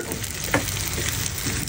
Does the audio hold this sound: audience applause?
no